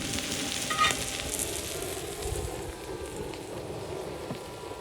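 Green chili frying in a pan with darkened, caramelized onions, giving a steady close sizzle with soft crackle throughout.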